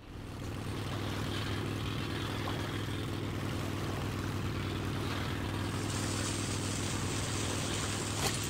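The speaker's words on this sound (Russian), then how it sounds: "можно найти еще одну такую же лодку с запущенным двигателем" Boat with its engine running in Metro: Last Light Redux, a steady loud motor drone that holds unbroken throughout with no voices.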